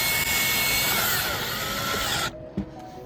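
A power driver runs continuously, driving screws back in during a fuel pump replacement on a 2007 Hyundai Tucson 2.7L. The steady whir stops abruptly near the end, followed by a short knock.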